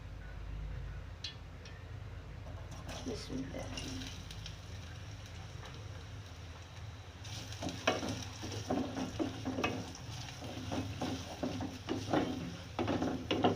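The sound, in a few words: chopped onions frying in a pan for korma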